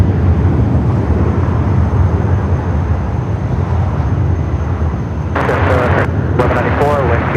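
A jet airliner, JetBlue flight 2801 bound for Atlanta, roars steadily on runway 24 right at Los Angeles International Airport, a loud, continuous broadband rumble throughout, with brief bursts of radio speech near the end.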